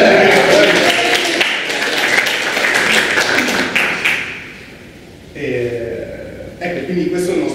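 Audience applause at a talk on the software developer profession: a dense burst of clapping over the first few seconds, fading, with voices speaking over and after it.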